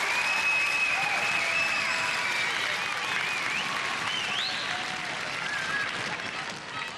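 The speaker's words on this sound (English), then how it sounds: "I think a round of applause for Dean." A 1992 UK Gladiators studio audience applauds contestant Dean in a loud, continuous wash of clapping and cheering that holds steady for several seconds before easing slightly, with faint whistles and shouts mixed in.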